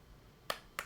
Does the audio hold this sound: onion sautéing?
no